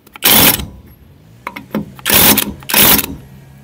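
A cordless electric impact wrench rated at 650 Nm tightens wheel bolts in several loud, short bursts of hammering rattle, with quieter clicks and gaps between the bursts.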